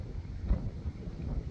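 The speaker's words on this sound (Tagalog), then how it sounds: "Ayan, sobrang lakas na ng hangin." Strong wind buffets the microphone outdoors near boats, producing low, uneven gusty rumbling throughout with no talking.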